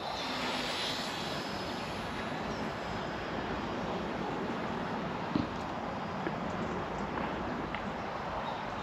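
A VolantexRC Trainstar radio-controlled trainer plane drones steadily overhead with its electric motor running, a continuous whirring buzz that holds an even level outdoors throughout, with no talking.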